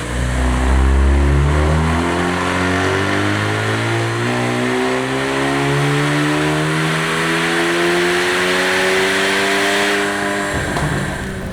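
A Kia Stinger 2.5T with a JB4 tune on map 1 and E40 fuel accelerates hard, the engine note climbing steadily through a long loud pull before easing off near the end, close and continuous with no talking.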